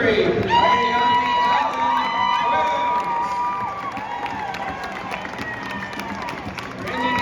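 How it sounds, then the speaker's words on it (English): Cheers and whoops from a rodeo grandstand crowd at an outdoor night show, broad, continuous and fairly loud, with scattered clapping underneath and rising shouted voices. "please give a round of applause to Avery Ayami"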